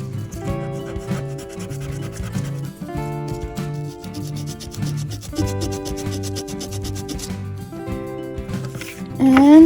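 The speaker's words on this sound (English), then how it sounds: "I'm going to use the Mono Sand Eraser to fix that." A Mono Sand Eraser rubs out stamped ink on paper in repeated quick back-and-forth strokes. The scratchy rhythmic rubbing sits close and steady under background music.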